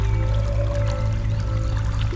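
A river flows steadily in a constant, broad rushing wash while someone pans for gold at the water's edge, with no voices.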